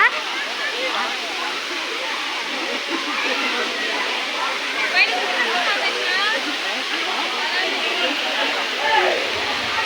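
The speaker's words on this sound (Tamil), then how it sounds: "ஜலகாம்பாறை நீர்வீழ்ச்சி. அப்பா இதில் தண்ணி அருமையாக வருது." Jalagamparai waterfall pouring with strong flowing water, a loud continuous broadband rush that stays steady throughout, with no clear talk on top.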